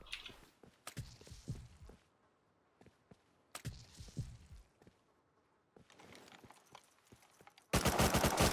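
Gunfire cracks in Rust, firing in separate sharp bursts with quiet gaps between them. A sustained loud barrage comes at the very end.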